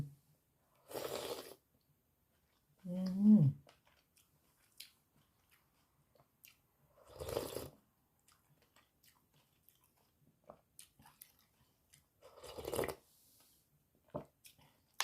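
Soft, wet chewing and biting while tasting bua loy, Thai glutinous rice balls in sweet coconut milk with egg, comes in three or four separate close bursts with quiet pauses between them.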